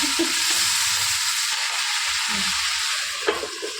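Vegetables, pumpkin and Malabar spinach with hilsa fish head, frying in a pan under a lid, giving a steady loud broadband sizzle with a few soft stirring scrapes and knocks beneath it.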